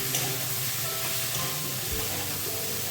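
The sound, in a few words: potatoes and eggplant frying slowly in a pan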